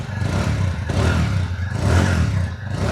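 TVS Apache 160 2V motorcycle with a 159.7 cc air-cooled four-stroke single, revving loudly and steadily up close, the engine note rising and falling in a couple of swells with no talking over it.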